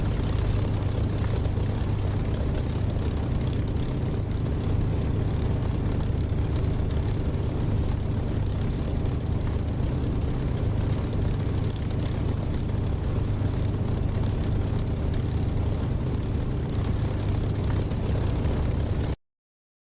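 An aircraft taking off in the flight simulator DCS, a dense, continuous engine roar with heavy low rumble holding steady for about twenty seconds before cutting off abruptly, with no voices.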